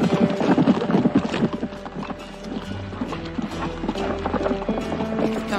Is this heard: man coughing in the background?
no